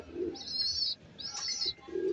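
Low, soft cooing from a racing pigeon returned from a 60 km San Pablo, Laguna race comes in short phrases, with two steady high whistling tones drifting over it, faint and with no voices.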